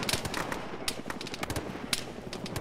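Gunfire in the Arma military video game, fired by a helicopter air cavalry unit: a steady stream of rapid, moderately distant shots with sharper cracks standing out now and then.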